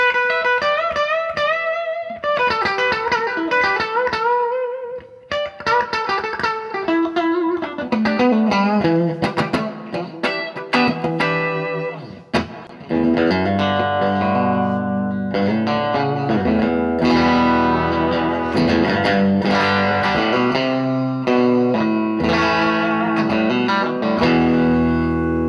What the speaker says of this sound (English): let's go back and then just jam a little bit up for the reverb portion here